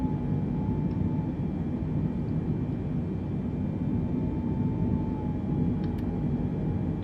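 An airplane climbing out after takeoff with landing gear retracting in Microsoft Flight Simulator 2020, a steady, loud low jet engine rumble and drone with a faint high whine, continuous and unbroken.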